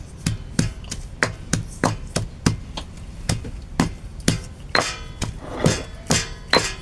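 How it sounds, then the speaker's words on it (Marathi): Peanuts pounded coarse in a home kitchen, steady heavy thuds with a hard clang on each strike, about two per second, close and alone. "आता मी ते परत ठेचून घेतो."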